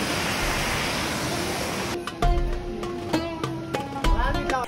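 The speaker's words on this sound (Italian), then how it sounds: "un fiume." A river rushes beneath a city in Tehran, Iran, as a steady, dense broadband roar for about two seconds before sharper clicks and tonal sounds cut in over the continuing flow.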